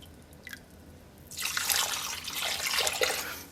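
Apple cider vinegar, a full cup, poured into a pot of pulled pork sauce with spices, starting as a few faint drips and then a steady, splashing stream that swells and runs for a couple of seconds.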